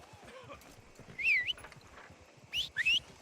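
A horse in the video game Red Dead Redemption 2 clip-clops along with soft hooves, then gives two sharp, high whinnies, one in the middle and one near the end, close and clear.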